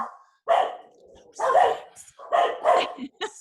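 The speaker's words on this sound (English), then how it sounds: "And your dogs are all excited to share with you." Several dogs bark indoors in three or four sharp, excited bursts close by, with yips and a whimpering whine between the barks.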